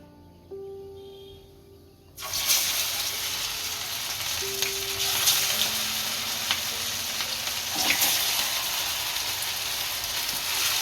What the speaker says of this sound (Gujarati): આને તળી લેશું